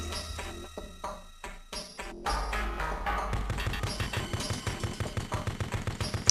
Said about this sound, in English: blind fire really is wildly inaccurate